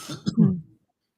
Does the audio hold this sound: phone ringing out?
no